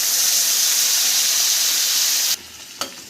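Mint paste frying in a pan with a loud, close, steady broadband sizzle that cuts off abruptly partway through, leaving quiet room tone and one brief soft click.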